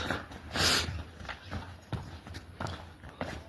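A foal's hooves clip-clop in a steady, uneven rhythm on hard ground, fairly close, with a louder thump early on and faint background noise.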